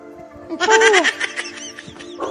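A single loud, wavering bleat from a goat or sheep on a farm with goats, sheep and cattle, followed by a few quieter bleats and rustles.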